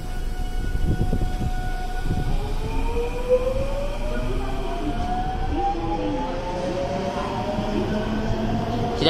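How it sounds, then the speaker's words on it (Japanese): A JR 207 series local train pulls out of Amagasaki Station, its motor whine climbing steadily in pitch as it gathers speed, loud and close on the platform with rumbling wheels beneath. "左側5番線から発車した電車は普通高槻行きです。"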